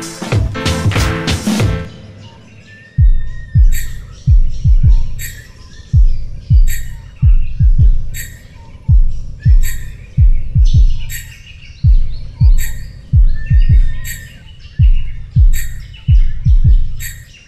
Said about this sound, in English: Here, I can hear fig birds, and also around the corner up here, we've got rainbow lorikeets